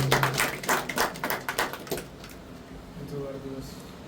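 A small gathering at a Facebook 10k-follower and birthday celebration claps in a quick, even round that lasts about two seconds and then dies away, leaving quiet room sound with faint voices.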